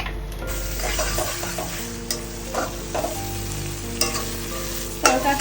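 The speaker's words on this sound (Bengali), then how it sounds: "এবার আমি দেবো ডিম। ডিমটা দিলে মশলাটা আরো ভালো হবে।" Eggs fry and are stirred into a tadka masala in a pan, with a steady sizzle broken by scraping strokes and light clinks of a utensil against the pot, fairly close and with no voices.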